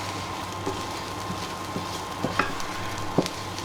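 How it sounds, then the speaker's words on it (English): Paprika is stirred into a mixture in a pan on the hob, soft scraping and clicking of the spoon in an irregular rhythm over a steady low sizzle, close and fairly quiet. "Just mix it all up."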